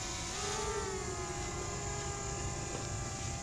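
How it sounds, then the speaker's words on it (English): A camera drone lifts off outdoors on public hunting ground, its propellers giving a steady, loud whining buzz with a rising tonal hum that holds throughout, close by and with no talk over it. "Let me throw that drone up and I'll show you what that looks like."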